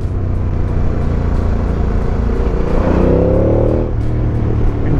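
An Aprilia 1200 Caponord twin-cylinder motorcycle with its stock exhaust rumbles steadily, then revs in a brief rising pull near the middle before settling back to a continuous close engine drone, with no voices.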